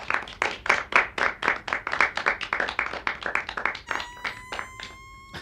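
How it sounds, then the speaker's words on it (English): A light, polite round of clapping, a couple dozen soft claps in a quick even rhythm from one nearby person, tapering off at the end. "Golf clap."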